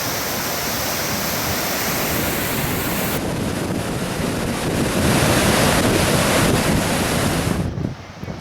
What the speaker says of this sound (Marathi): धरणातून मोठ्या प्रमाणात जायकवाडीच्या दिशेने पाण्याचा विसर्ग सुद्धा सध्या सुरू करण्यात आलेला आहे